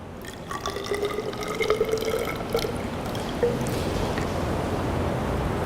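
Water pours into a graduated cylinder in a basic chemistry lab as 30 millilitres are measured out, a close, steady trickling stream with small drips and a rising fill tone that fades into a softer run of liquid.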